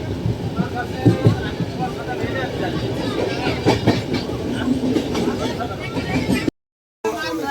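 A moving train rolls along a railway line through open fields, a steady close rumble with rhythmic clickety-clack of the carriages throughout, briefly cutting out near the end.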